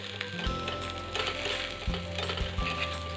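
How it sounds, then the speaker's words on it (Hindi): Potato pieces frying in oil are flipped over in a pan, giving a close sizzle with a few clinks and scrapes as they are turned. No one talks. "इस तरह से करके हम इसे अच्छे से पलट लेते हैं।"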